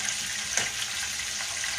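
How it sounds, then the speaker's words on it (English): Catfish fillets frying in hot oil with a steady, dense sizzle and crackle heard up close, continuous and fairly loud with a few small pops, and no voices. "This is doing really, really good. It's frying up really,"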